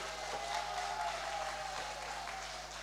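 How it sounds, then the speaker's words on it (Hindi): An audience at a church conference bursts into steady, continuous applause, a dense wash of clapping hands sustained throughout without letup. "चलिए तालियां मारिए।"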